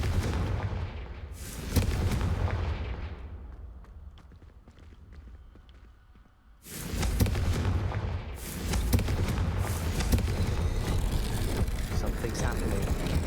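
Explosions from the Confringo fire spell in the video game Hogwarts Legacy, loud booming blasts with a roaring rush, fading into a quieter lull before another burst of heavy explosive noise that runs on.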